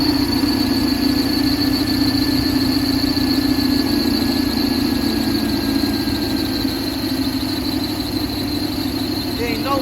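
A 1976 Buick Skylark V8 fitted with headers runs steadily at idle nearby, a continuous droning rumble with a faint squeal over it, while people talk around it.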